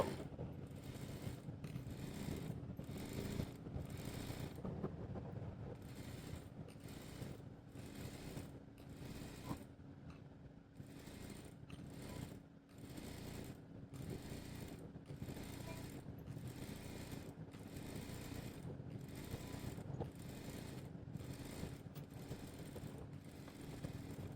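A sewing machine stitches a girl's double-layer frock in short repeated runs, each burst a fast mechanical whir with brief pauses between. The runs keep a steady rhythm with a faint hum beneath.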